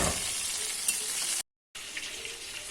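Rava-coated bangda (mackerel) pieces sizzle steadily in a frying pan after being flipped, a continuous crackling fry with a brief gap of silence midway.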